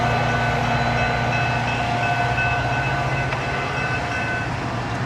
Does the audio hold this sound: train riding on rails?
yes